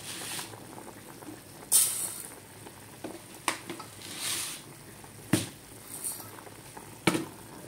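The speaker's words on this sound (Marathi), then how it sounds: "मस्त पाणी उकळले" Water bubbles at a rolling boil in a pot, ready for rice, a steady gurgling hiss broken by occasional sharp pops and clinks.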